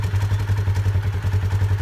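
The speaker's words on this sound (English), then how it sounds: "All clutches make a little extra noise when they're idling." Motorcycle engine idling after a clutch installation, a steady close, loud low thrum with a fast regular clattering pulse from the clutch, running alone without talk.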